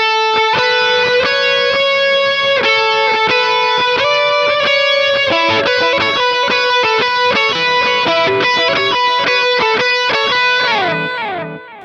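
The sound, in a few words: electric guitar lead with delay, full part played together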